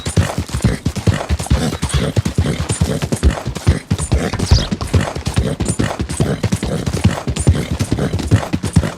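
Galloping horses in the Red Dead Redemption video game, a fast, steady run of loud hoofbeats close by that fills the whole stretch, with no talk over it.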